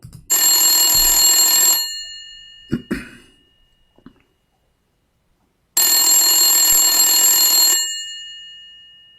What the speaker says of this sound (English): Let us call him in his grandmother's house. Phone. Old phone.